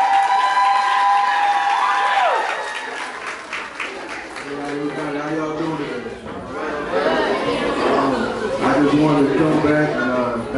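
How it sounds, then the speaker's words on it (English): A crowd at a New Orleans Saints player's back-to-school giveaway applauds and cheers, a steady wash of clapping mixed with chatter and scattered shouts. "So a round of applause, with no further ado, for Mario Edwards Jr."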